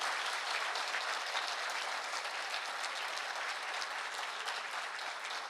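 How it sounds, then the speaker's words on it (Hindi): Loud audience applause after a talk on Shivaji Maharaj and Swarajya, a dense, even wash of clapping from a large crowd that holds steady throughout with no voices over it. "तो जोरदार तालियों से ये उत्तर आशीष जी तक पहुंचाइए।"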